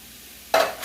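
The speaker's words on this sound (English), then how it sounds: "now I'm going to go ahead and get my corn in" Corn drops into a seasoned taco casserole mixture in a pan with a short, bright rustling clatter, followed by a brief soft sizzle before fading.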